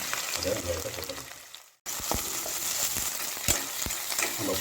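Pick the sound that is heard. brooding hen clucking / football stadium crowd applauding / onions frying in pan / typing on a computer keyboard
onions frying in pan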